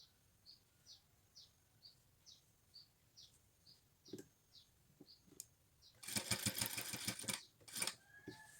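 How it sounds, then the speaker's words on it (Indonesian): A sewing machine stitching a shirt cuff placket in fabric runs in a dense, steady burst for about two seconds near the end, after a quiet stretch of faint regular ticks. "Jahit perlahan-lahan agar hasilnya rapi."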